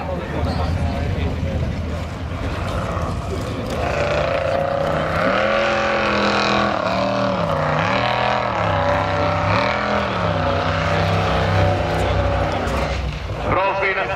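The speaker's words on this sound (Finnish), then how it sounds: "Terminator-autossa siis 6-litrainen, vähän reilu 6-litrainen Chevroletin V8-moottori ilokaasuilla" Off-road race car with a Chevrolet V8 of just over six litres running nitrous, roaring steadily and rising and falling in pitch as it revs through a formula off-road event in Finland, heard under a commentator's voice.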